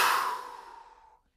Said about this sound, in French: Vous soufflez fort par la bouche pour évacuer vos dernières tensions.